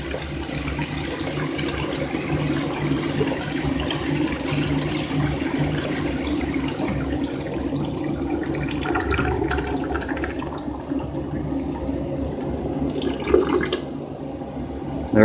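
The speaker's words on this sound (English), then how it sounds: "we've got a urinal here that just won't quit running" Water runs continuously from a leaking Sloan flushometer on a urinal in a restroom, a steady hiss and gurgle heard close up, with some handling clatter toward the end.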